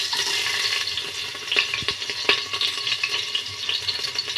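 Ginger, garlic and green chilli fried in a pan for a dal dish, a busy hissing sizzle with scattered pops and stirring scrapes, steady and close with no talk over it.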